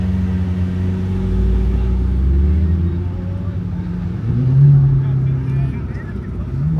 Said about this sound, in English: time to run against the Lamborghini Aventador SVJ